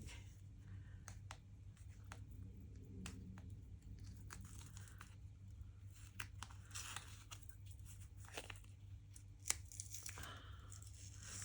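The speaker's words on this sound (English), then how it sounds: "I'm going to put a bit of washi tape." Washi tape being torn and handled at a journaling desk, with scattered short crisp rips and crinkles over a steady low hum, close and fairly quiet throughout.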